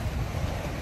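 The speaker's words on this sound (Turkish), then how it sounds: "Bu hafta hava hep rüzgarlı." Steady wind blowing at a seaside beach, a continuous broadband rush with low rumbling gusts, close and fairly loud, with no voices.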